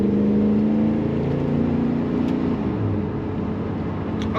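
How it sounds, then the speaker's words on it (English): A 1996 Chevrolet C1500 Silverado regular cab stepside pickup with a throaty exhaust idles and rumbles steadily nearby, a low continuous engine drone with slight rises in pitch and no talking. "This truck has a nice throaty exhaust sound to it."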